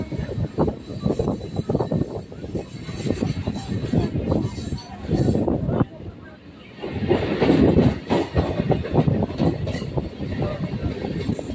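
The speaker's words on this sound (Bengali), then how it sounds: "ট্রেন এখন নরেন্দ্রপুর স্টেশন ছেড়ে বেরিয়ে যাচ্ছে।" A suburban train pulls out of Narendrapur station on the Sealdah–Sonarpur line, its loud rumble and rhythmic wheel clatter rising and falling close by as the carriages gather speed.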